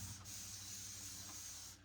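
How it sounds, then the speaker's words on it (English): A continuous hissing spray of cleaning power spray from a trigger bottle onto a craft piece, steady and close for under two seconds, then cutting off. "I'm also going to spray it down with some power spray right now."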